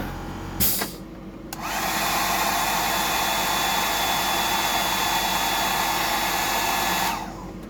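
A hair dryer blows on a fresh coat on a 175mm glide mullet fishing lure, switching on after a short knock and roaring loud and steady for about six seconds before cutting off.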